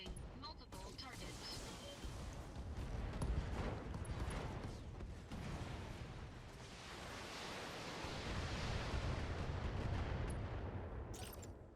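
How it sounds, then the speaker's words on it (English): Turrets fire in the Thorium Mercs mech video game, a dense rumbling barrage of repeated booms and crackles under a steady noisy wash, swelling and easing across the span. "This will be the turrets firing off."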